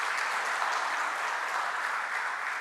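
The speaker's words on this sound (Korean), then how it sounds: "박수 한번 쳐주세요." A church congregation and choir at a Korean worship service clap together, a dense steady round of applause that holds evenly throughout.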